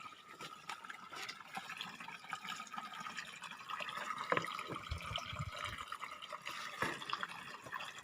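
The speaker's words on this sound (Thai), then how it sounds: "โอ้เสียงน้ำครับพี่น้อง" Water trickles and drips in a rainy-season forest, soft, irregular splashes and a light running-water wash close by, with faint background noise.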